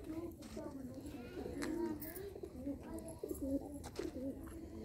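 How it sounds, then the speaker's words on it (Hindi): Pigeons coo repeatedly nearby in soft, rolling calls, with a person talking over them and faint background noise. "ये देखें कबूतर हैं"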